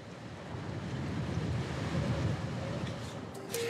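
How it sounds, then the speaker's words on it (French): Water rushing and wind buffeting on the deck of a canal barge on the Marne-Rhine Canal, a steady broad wash with gusts, fairly close, with no voices. "Sur le pont, rien que le bruit de l'eau et du vent."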